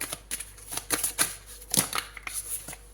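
Tarot cards being shuffled by hand, a quick run of dry, papery riffles and flicks in irregular bursts, close and fairly soft, with no talk.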